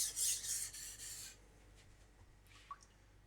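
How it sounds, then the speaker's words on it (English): A knife blade scrapes along a whetstone in a run of rhythmic, close rasping strokes for over a second, then falls to quiet handling sounds and a faint tap. "I'm hitting the very edge. I'm using the entire length of the stone."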